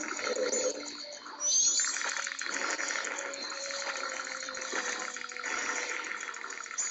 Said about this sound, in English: Why'd you drop the bomb in the water, Link?